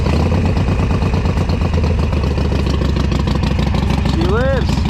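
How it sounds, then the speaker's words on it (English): Harley-Davidson Sportster motorcycle engine, with a freshly installed battery, cranking over and then idling steadily close by, a continuous loud rumble with clattering engine noise throughout. "Fire it up, see how it sounds."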